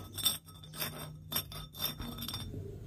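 Close, rhythmic gritty scrapes as the edges of a hole in a glass bottle are gently tapped, repeating about five times, each a short rasp with faint clinks, in a quiet room.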